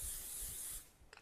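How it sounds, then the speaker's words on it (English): An aerosol can sprays onto the lid of a Christmas pudding basin in a steady hiss lasting under a second, quiet and close, followed by faint clicks and rustling. "And I actually spray the lid as well"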